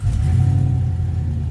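A 2006 GMC Yukon engine turning over and running after the key is turned, a steady loud low rumble close by with no talking.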